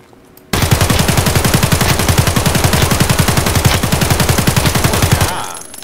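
A full magazine emptied in rapid automatic fire in the shooter game Escape from Tarkov, a loud unbroken burst of evenly spaced close gunshots lasting about five seconds before stopping abruptly.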